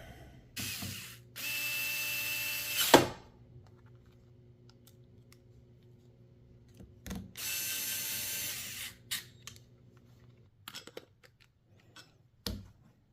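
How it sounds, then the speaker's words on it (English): Screws are driven back into a vintage K&B 7.5 RC boat outboard, with two bursts of a whirring electric screwdriver separated by silence and scattered small clicks and taps of the tool and parts nearby. "Now we can go ahead and put all of our screws back in."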